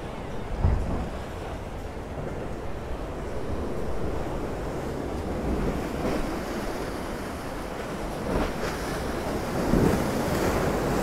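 Rough sea waves pound the rocky shore at Ciudad Jardín in Palma de Mallorca, a continuous loud roar of surf and spray with heavier crashes breaking through, mixed with gusty wind buffeting the microphone.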